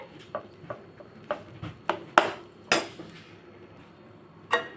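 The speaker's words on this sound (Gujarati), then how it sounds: "આપણે મિક્સ કરી લઈશું બધું જ" Spoon clinking and scraping against a bowl in irregular strokes while semolina batter is mixed, with sharper knocks near the middle.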